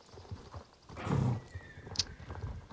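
A horse in the online riding game Star Stable Online gives one clear whinny mid-clip, with soft rhythmic hoof clip-clops running underneath before and after.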